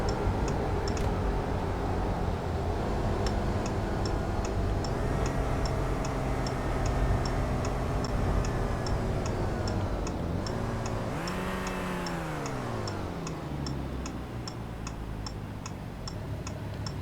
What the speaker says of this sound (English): Turn my signals on a bit early